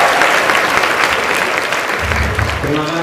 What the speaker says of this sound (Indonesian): Beri tepuk tangan untuk Bung Agung.